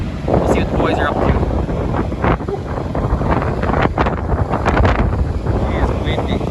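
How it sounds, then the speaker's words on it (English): Strong wind buffets the microphone outdoors at the Ag In Motion 2023 farm show, beside a demo unit. A loud, continuous roar rises and falls in gusts, with faint voices underneath. "It's windy."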